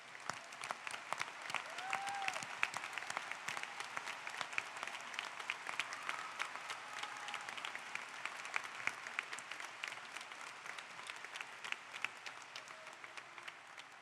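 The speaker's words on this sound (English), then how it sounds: "Let us please applaud for all of those." A commencement audience applauds first responders with dense, sustained clapping that fills a large hall evenly for the whole stretch, with a faint cheer or two.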